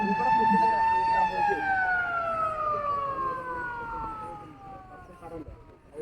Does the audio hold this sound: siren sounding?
yes